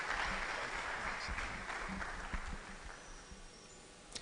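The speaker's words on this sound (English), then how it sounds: "Can we put our hands together one more time, please?" Audience at an international conference on African development applauding a speaker, soft and fairly distant clapping that holds steady and then slowly thins out.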